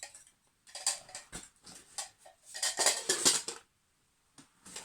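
Metal camping pot and lid handled in bushcraft gear, bright clinks, taps and rattles in irregular bursts with short quiet gaps, close and fairly faint.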